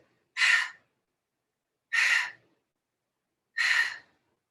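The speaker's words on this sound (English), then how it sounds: "We're gonna do breath of fire. Quick hot exhales as we press the pelvis up." Three sharp, forceful breaths pushed out through the nose in yoga breath-of-fire style, evenly spaced about a second and a half apart, close and clear against silence.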